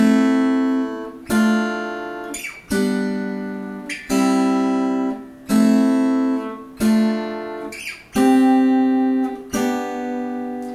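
Fingerstyle acoustic guitar picking the opening of a song, a steady run of bright plucked notes with ringing open strings, each phrase struck clearly and left to sustain alone.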